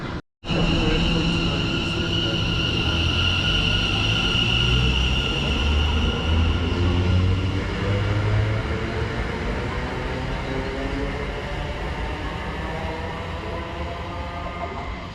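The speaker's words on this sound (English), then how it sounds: "there is our train" A London Overground train on the Gospel Oak to Barking line rumbles steadily past up close, a continuous rolling roar with a high whine and clattering wheels that slowly fades.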